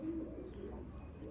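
Imam Din breed pigeons cooing softly, a low steady coo at moderate distance with faint background noise and no talk.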